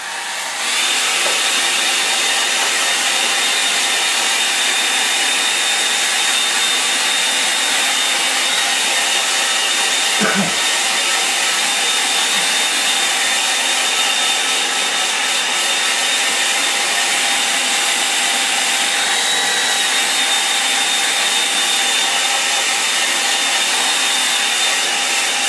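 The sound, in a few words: hair dryer drying a watercolour painting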